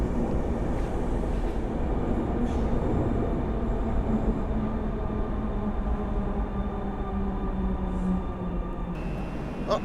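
A Griffin locomotive-hauled train at Warszawa Centralna station produces a loud, steady rumble and roar that fills the platform, with faint metallic whines on top, continuous and close throughout.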